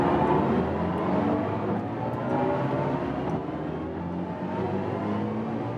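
A BMW i4 M50 electric car accelerates hard in Sport Boost mode at highway speed, giving a steady, loud, sustained synthetic drive hum mixed with road and wind roar, without speech.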